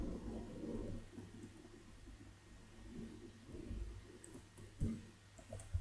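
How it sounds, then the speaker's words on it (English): Low rumbling thunder from an Australian summer thunderstorm, rolling steadily for several seconds with a couple of louder swells near the end, heard at a distance with no voices. "I don't know if you heard that, but that was thunder."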